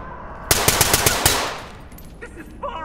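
Automatic gunfire in the tactical shooter Ready or Not: a rapid burst of about seven sharp, loud shots over roughly a second, then fading reverberation and faint background game sounds.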